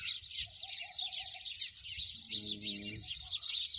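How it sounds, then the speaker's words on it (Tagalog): Many small birds chirp and tweet without pause in a backyard in Abu Dhabi, a dense bright chatter over a faint low rumble, with a brief lower call near the end. "Mga birds, oh. Ang daming birds."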